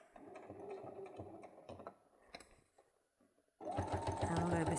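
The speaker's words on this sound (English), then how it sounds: "And I'm going to be sewing all the way along. I'm at the right stitch length." A domestic sewing machine stitches a bag seam in short bursts of rapid mechanical chattering, pausing and restarting several times before one loud, sustained run of stitching close by.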